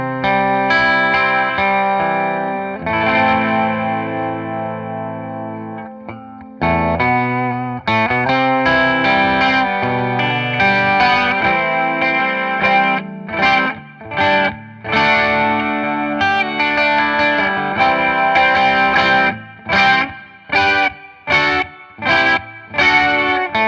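Electric double-neck guitar on its bridge humbucker, played through distortion with chorus and echo effects: sustained chords, then choppy, staccato stabs with brief gaps near the end, loud and alone.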